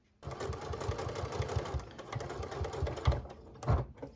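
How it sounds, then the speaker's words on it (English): A sewing machine back-stitches a pot holder handle with a rapid, close, steady mechanical chatter that starts abruptly and slows briefly near the end. No one speaks. "Just going to go ahead and continue sewing."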